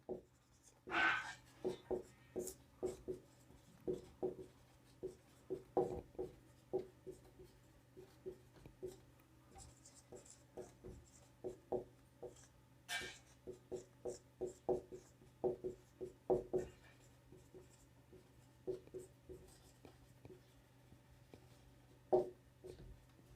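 Chalk scratches and taps across a classroom board as a math formula is written out, a steady series of short strokes with brief pauses, close and fairly quiet, with occasional soft talk.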